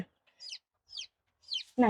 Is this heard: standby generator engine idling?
no